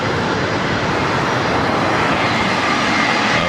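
A WestJet Boeing 737 Max 8 jet on landing approach at LAX, inbound from Toronto, gives a loud, steady broadband engine roar that holds unbroken throughout with no talk.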